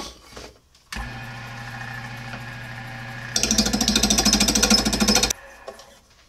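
Wood lathe turning an off-center hammer handle: a steady motor whine with a rhythmic knocking runs alone, then grows louder and harsher for about two seconds as the tool cuts, before stopping abruptly.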